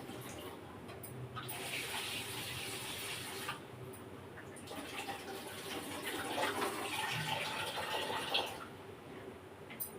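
Macaroni is rinsed under a running tap, a steady close stream of water that breaks off briefly in places and then resumes, soft and uneven as the pasta is handled.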